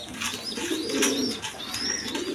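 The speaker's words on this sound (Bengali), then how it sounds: "দর্শকবৃন্দ এখানে এক পেয়ার ডেনিশ কবুতর আছে" A pair of Danish pigeons coo in a pigeon dealer's market, low throaty coos continuing under a busy backdrop of higher chirps and twittering from other birds nearby.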